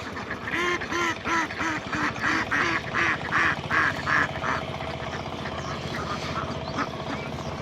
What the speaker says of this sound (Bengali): হাঁস কিন্তু খুব সুন্দর ভাবে উঠে যাচ্ছে।